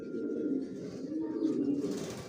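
A racing homing pigeon, a Johnson grizzle racer youngster, coos in a low, steady rolling murmur throughout, fairly close, with no talk over it.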